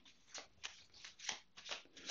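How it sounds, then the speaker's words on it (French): Tarot cards are shuffled by hand, producing about seven quick, crisp riffling bursts in an even rhythm, faint and close with no talking. "Nous allons mélanger un tout petit peu les cartes"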